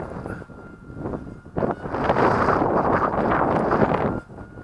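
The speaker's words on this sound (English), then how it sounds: "Of course the wind's helping that over, it's that strong." Strong wind buffets a microphone outdoors at a field where a powered Lidl XL foam glider is flown, giving a rough, continuous roar that swells louder through the middle of the clip before easing.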